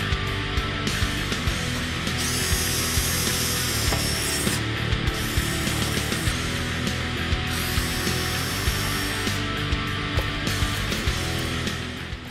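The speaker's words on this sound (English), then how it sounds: "Now we're going to remove all the original clips by drilling out each of the rivets." A power drill bores out the rivets holding the rocker panel molding clips on a 1967-1968 Ford Mustang, grinding steadily with rising whine bursts as each rivet is drilled, loud and continuous without talk.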